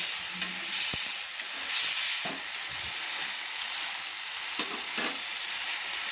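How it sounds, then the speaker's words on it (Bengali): Fried eggs and potol are stirred into a curry in a pan, giving a steady, fairly loud frying hiss with a few sharp utensil knocks and scrapes scattered throughout, no one speaking. "ভেজে রাখা পটলগুলো তুলে দিচ্ছি। দিয়ে নেড়ে নিচ্ছি।"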